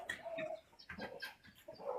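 Chickens cluck and chatter steadily at close range, overlapping calls rising and falling throughout, with no human talk.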